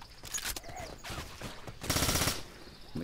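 Automatic gunfire in the zombie shooter Left 4 Dead 2 comes in loud, close bursts separated by short gaps. The longest and heaviest stretch of firing lands near the end.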